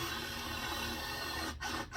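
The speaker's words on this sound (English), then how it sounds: "I'm going to take a 1-inch paddle bit and I'm going to drill through the rot" A 1-inch paddle bit drilling through rotten timber gives a steady close grinding rasp that runs continuously, then stops in two brief breaks near the end.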